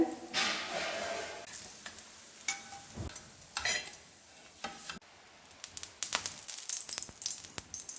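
Coated raw plantain slices shallow-frying in oil, a steady close sizzle broken by stirring scrapes and clinks of a utensil against the pan, with no voices.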